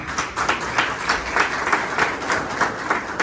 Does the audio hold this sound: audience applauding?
yes